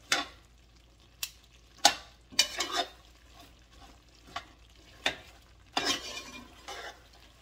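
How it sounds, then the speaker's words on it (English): A brown sugar mixture for coconut drops is stirred in a pot. Irregular scrapes and metallic clinks of the spoon against the pot come through over a low, soft bubbling. "This is where you're going to keep on stirring. The sugar is reducing."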